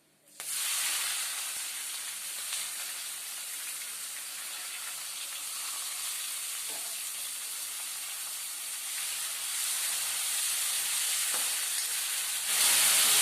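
Sliced onion drops into hot oil with spices for chicken biryani, setting off a sudden loud sizzle that keeps up as a steady bright frying hiss and swells again near the end.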